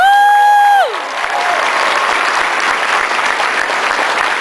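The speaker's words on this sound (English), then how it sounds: "Please hold your applause." Convention audience at the Calgary Comic Expo 2010 panel spotlighting Brent Spiner breaks into loud, sustained applause with some cheering, right after a brief electronic tone slides down and cuts off.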